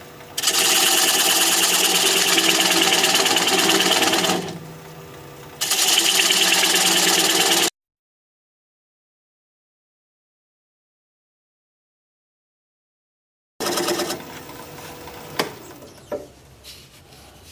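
Wood lathe spinning a bowl at about 550 RPM while a tenon is slowly cut away, a steady loud whirring hum with tool chatter, a dip partway through, a long silence, then the turning resumes with scraping.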